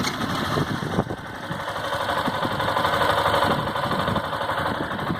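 A 2018 Honda Factor 150 motorcycle engine with a strange noise idles steadily, with a continuous mechanical hum and a fine, rapid ticking rattle running throughout, close and alone with no talk.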